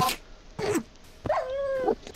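A dog in a video game lets out short barks followed by a longer, drawn-out whining yelp, close and clear over a quiet background.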